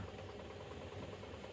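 A loaded lorry's engine labouring on a muddy, rain-soaked hill road in Munnar, a faint, steady low rumbling drone with slight knocking, brief and continuous.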